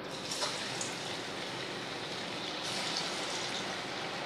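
Chicken pieces fry in hot refined white oil for Hunan chicken, a steady, close hiss and crackle that holds at an even level, with no talk over it.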